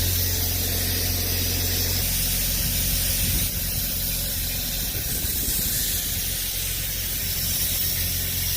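Spray paint hisses from a can onto a project being painted in cold weather, a continuous, fairly loud airy spray with slight pressure changes and no talking.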